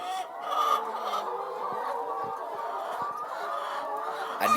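Chickens on a poultry farm around midday, a steady close chorus of overlapping clucks and soft calls forming a continuous farmyard murmur.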